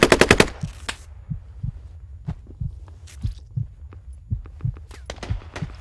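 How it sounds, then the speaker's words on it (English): Gunfire in the military shooter Squad: a fast opening burst of automatic fire up close, then scattered distant single shots and cracks against a low rumble. "Eyes on that guy taking shots at us."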